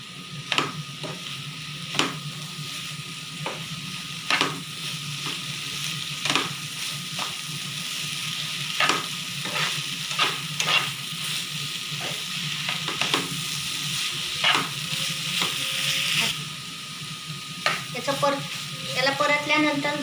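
Soybean khima fries in a pan with red chili powder and masala. A steady low sizzle runs throughout, and a spatula scrapes and stirs the pan in repeated sharp clinks.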